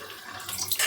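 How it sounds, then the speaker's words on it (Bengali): Water poured into a pot of murighonto, the Bengali fish-head rice dish, cooking on a gas stove; a short, close splash that swells louder toward the end. "দিয়ে দেব জল"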